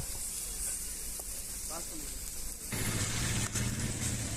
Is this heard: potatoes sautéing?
yes